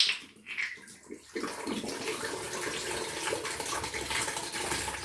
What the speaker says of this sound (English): So let's pour that into the bowl.